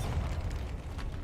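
A blasting spell detonates in a wizard video game, a loud low rumbling boom that carries on as a dense, rolling roar with crackling debris, close and filling the whole moment without any voices.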